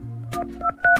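Mobile phone keypad tones beep in a quick sequence of short, clean dial tones, close and distinct, with no voices.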